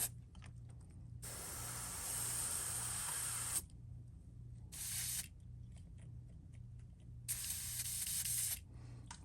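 An airbrush sprays paint onto a fishing lure in bursts of hissing of varying length, with a steady low compressor hum underneath, quiet and close.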